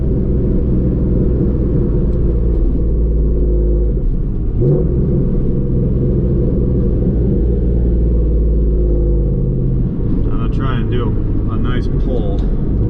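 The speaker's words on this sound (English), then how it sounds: "it's a comfortable car to drive" Pontiac Trans Am engine rumbling steadily from inside the cabin while driving, a continuous low drone with slight swells, and someone talks over it throughout.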